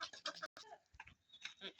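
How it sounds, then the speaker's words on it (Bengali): Desi chickens clucking in quick bursts close by while feeding, with short pauses between the calls. "দেখতে পাচ্ছেন মুরগিগুলো কি মজা করে খাচ্ছে।"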